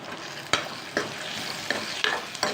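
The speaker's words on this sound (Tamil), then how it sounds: "1 அல்லது 2 தேங்காய் துண்டை பொடிசாக நறுக்கி அதையும் போட்டு வதக்கிடலாம்" Coconut pieces sizzling in a hot pan for Kerala fish curry, with a spoon clacking against the pan every half second or so as the pieces are stirred.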